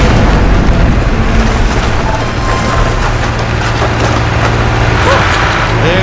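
A wall being forced open in Portal 2, a dense continuous crumbling rumble with splintering cracks and debris, loud and sustained throughout with no talk.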